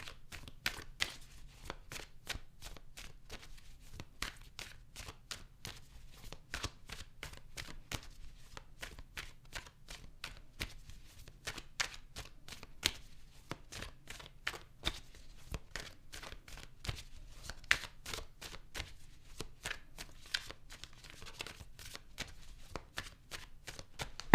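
Tarot cards shuffled over and over, a long run of quick soft riffling clicks and slaps, close and fairly quiet, with no talking.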